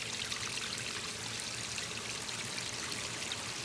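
Water from a backyard waterfall, fed through an adjustable valve and running under a log, pours in a steady, close, broadband rush that never lets up, with no voices over it.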